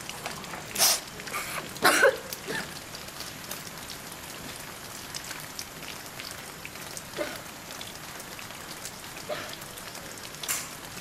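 Steady rain falls in a soft, even hiss, with a few louder splashy bursts and a faint cough-like sound standing out over the constant patter.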